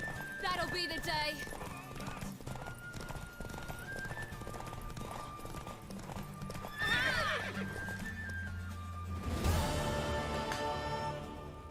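Horse in The Witcher 3 neighing loudly several times over steady clip-clopping hooves, with in-game characters talking and game sounds around it.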